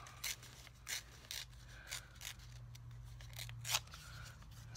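Paper torn by hand into a small headland shape for a night-time high tide card, in a series of short, crisp ripping bursts spaced about a second apart over a steady low hum.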